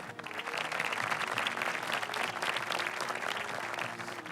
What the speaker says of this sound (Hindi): बिल्कुल सही जवाब। तालियां।